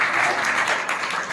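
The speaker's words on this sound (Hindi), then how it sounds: "इंडिया के लिए अलग से तालियां बजनी चाहिए" Seminar audience claps in a short, steady burst of applause, close and fairly loud with no talk.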